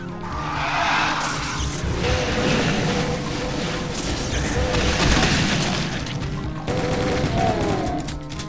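Two BFG shots in Doom 2's TNT: Evilution, Central Processing level, ring out over dense, continuous game noise: roaring blasts, gunfire-like crackle and booming layered throughout, loud and unbroken with no speech.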